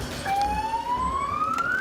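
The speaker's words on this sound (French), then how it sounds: "Allume, tu peux mettre la sirène." A single rising police siren tone sweeps steadily upward over a low rumble of background noise, moderately distant, in a São Paulo favela.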